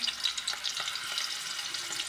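Paneer fries in desi ghee in a kadhai, giving a steady, close crackling sizzle with dense spitting pops throughout and no voices.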